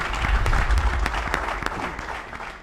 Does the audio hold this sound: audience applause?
yes